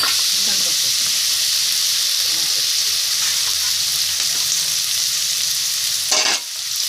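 Oil sizzles in a frying pan with a steady, loud hiss throughout, joined by a brief burst of clatter near the end.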